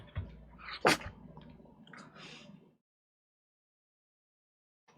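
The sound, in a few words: dog sneezing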